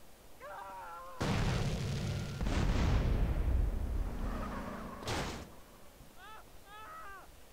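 Rocket blasts in GTA San Andreas blowing apart a roadblock: two loud, broad booms, the first rumbling on for several seconds, the second short and sharp, with a voice talking faintly before and after.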